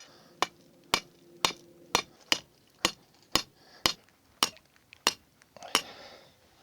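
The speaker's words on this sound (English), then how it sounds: "I need to hammer this thing into the ground at least 2 feet" Steady metallic hammer blows driving a grounding rod into the ground beside a shed, about one every half second, ringing and close, a dozen strikes in a row with no talking.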